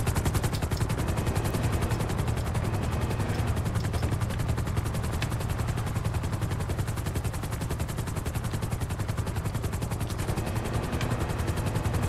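Coast guard helicopter in GTA 5 during a cruise ship rescue, a constant loud rotor chop and engine roar that never lets up, with no talking.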